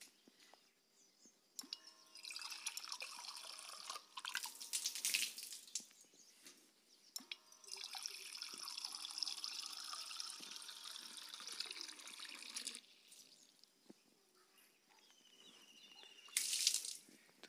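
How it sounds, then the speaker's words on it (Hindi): Water runs from an automatic sensor tap in bursts, with several seconds of steady pouring interrupted by short pauses. The flow sounds close and splashy, as if it is falling into a glass and onto a surface below. "अभी हम क्या करते हैं कि इस ग्लास के अंदर पानी डालने की कोशिश करते हैं।"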